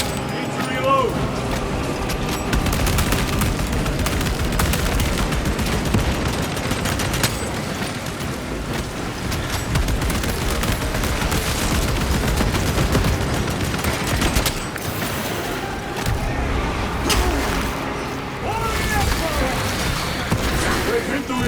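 Dense gunfire in Space Marine 2 fills a sustained battle, steady loud bursts and rattling fire layered with shouted voices throughout.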